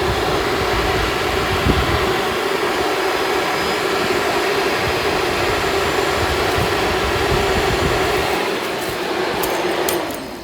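A motorcycle engine idles steadily with its radiator cooling fan blowing, a continuous close whooshing roar that holds for about eight seconds before easing slightly near the end.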